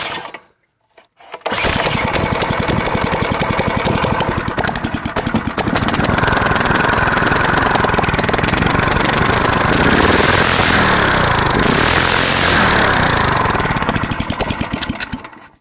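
An old go-kart engine with no muffler cranks and catches after a brief pause, then runs loud and raw at a steady, rough idle-to-rev roar, close up and alone for over ten seconds before cutting off.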